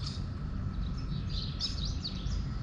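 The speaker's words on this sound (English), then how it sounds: "these birds are quite happy to be feeding" Birds feeding near Marrakesh, Morocco give faint, quick chirps and tweets over a low, steady ambient rumble, the calls scattered and light throughout.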